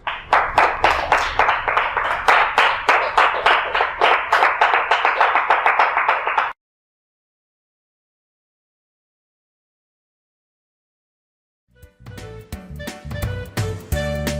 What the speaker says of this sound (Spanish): déjenme ese fuerte aplauso